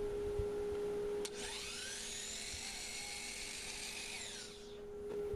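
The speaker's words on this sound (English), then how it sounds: "I'm just going to cut a just a little chamfer on the ends, more or less just for decoration" A small high-speed power tool cuts a decorative chamfer on the end of a cherry wood drawer pull: a steady whining tone that rises as it bites, holds for about three seconds, then winds down over a constant background hum.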